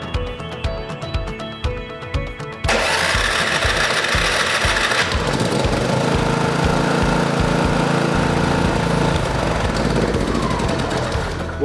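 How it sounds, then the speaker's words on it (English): A 3200 watt generator starts up with a few rough, rhythmic cranking pulses, then settles into a loud, steady, close engine drone that runs without a break. "The inverter is designed to seamlessly start the generator when your battery gets low."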